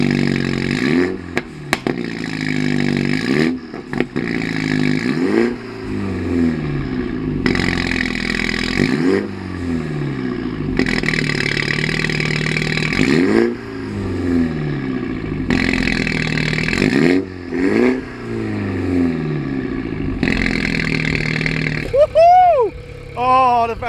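A Mini JCW car engine revs repeatedly through a loud, throaty exhaust with the exhaust valve open, each rev rising and falling in a steady rhythm, with some clatter between.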